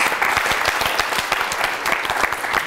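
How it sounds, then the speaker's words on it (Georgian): Audience applause at a school book quiz show: a dense, steady burst of many hands clapping close by, holding an even level throughout with no voices. "აპლოდისმენტები მასაც."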